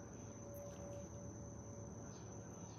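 Crickets chirping faintly at night, a thin steady high trill with no voices, quiet and distant.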